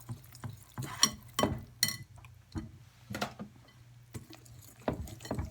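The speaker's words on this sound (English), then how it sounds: "we're going to take our whisk and whisk our buttermilk into our pancake batter" Whisk scraping and clinking against a bowl while buttermilk is beaten into pancake batter, making irregular bursts of metallic strokes over a quiet low hum.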